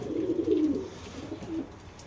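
Domestic pigeons in a loft coo softly and close by in a low, throaty murmur, with one longer swell early on and a shorter one near the end, under faint background noise.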